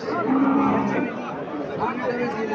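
A cow, apparently a Sahiwal-breed dairy cow, gives a low, drawn-out moo at a busy cattle market in Chandimura, Comilla, over constant crowd chatter and nearby voices.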